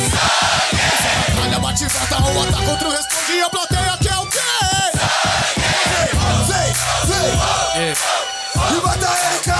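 A rap battle audience at an open-air street battle in Brazil roars and chants in unison, loud and close, with rhythmic rising shouts and whistles continuing throughout.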